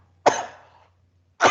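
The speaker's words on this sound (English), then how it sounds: "I got a cough." Two sharp, close coughs from a man, a short second apart, with the first trailing off into a brief rasp, heard alone without speech.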